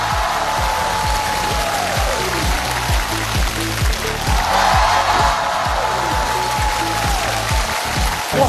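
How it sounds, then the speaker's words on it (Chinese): Studio audience on a Chinese television variety show breaking into sustained, loud clapping and cheering that fills the space evenly for several seconds. "掌声有请。"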